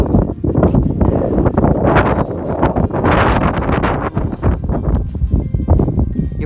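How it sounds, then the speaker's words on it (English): Heavy wind buffets the microphone while flying over an Alaskan glacier, a loud continuous roar with gusty surges and rumbling throughout, no clear voices. "You're probably hearing a lot of wind."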